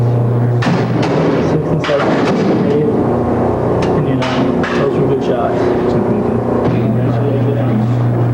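Rifle shots on a basic training firing range at Fort McClellan, several sharp reports and thumps spread over the stretch, heard over a steady droning background hum.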